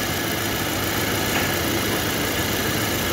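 The engine of a 2022 Ford Territory idles with a vibration traced to the engine support, giving a steady, close, low rumbling hum that holds evenly throughout with no talking.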